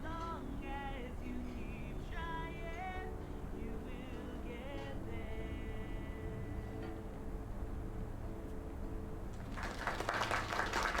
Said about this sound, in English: Oh, there's the clapping.